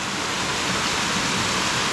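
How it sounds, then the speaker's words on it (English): Strip Mine Falls, a waterfall in a Tennessee state park, pours down a cliff face into a river below, making a constant dense hiss and roar that holds steady throughout, close and loud, with no voices. "I like how it's just cascading down the side of the cliff and into the river below"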